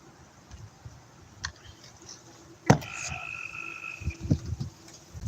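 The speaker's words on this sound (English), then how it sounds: "Did y'all hear that frog?" A frog croaks several times outdoors on a hot evening, with a single sharp click partway through, and the croaks come moderately close against a faint background.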